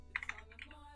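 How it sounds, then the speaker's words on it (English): Computer keyboard keys clatter in a short burst of quick taps during a livestream, fairly close and moderately loud, with no one talking. "typing"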